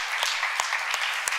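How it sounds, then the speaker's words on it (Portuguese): A church congregation claps in a brief, dense burst of steady applause, close and even, with a few sharper individual claps standing out. "Quem é que pode dizer um amém e aplaudir a presença dele nesse ambiente em nome de Jesus?"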